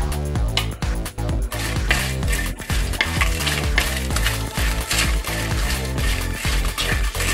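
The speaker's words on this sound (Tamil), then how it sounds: "தேங்காய் துருவலும் போட்டு கொஞ்ச நேரம் நல்லா வதக்கிக்கோங்க" Steady sizzling in a hot pan as masala with grated coconut is sautéed, a spoon stirring and scraping in a quick, repeated rhythm. Close and fairly loud, with no talking.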